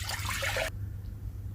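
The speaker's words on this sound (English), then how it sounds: "Add water and add some green chilies and add fresh tomatoes." Water is poured into a pot of tur dal in a home kitchen, a short gushing splash lasting under a second before it stops abruptly and leaves a quiet room.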